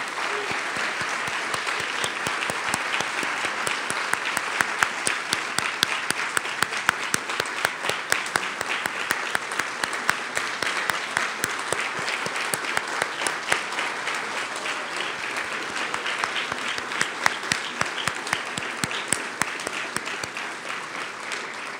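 Audience applause for award honorees at the close of an evening awards ceremony, sustained dense clapping from a large crowd that holds steady for over twenty seconds.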